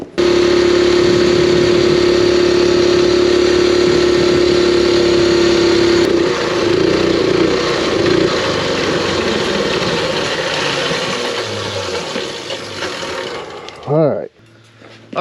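A go-kart engine driving a 30 series CVT torque converter during a tuning session runs with a loud steady drone that wavers and fades, then cuts out with a brief whirring tail near the end.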